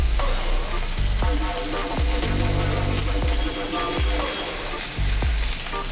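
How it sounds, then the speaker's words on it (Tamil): Onions frying in hot oil for poha upma: a dense, steady sizzle close to the pan with a low rhythmic thump repeating roughly every second, no voices. "இதில் வெங்காயம் சேர்த்துலாம்."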